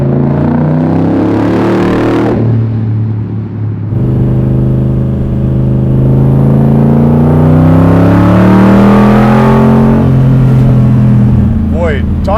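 A Superformance Corvette Grand Sport with a 750-horsepower naturally aspirated Mercury SB4 427 engine pulls hard, its loud rising drone climbing through the revs across a shift, with the driver talking over it.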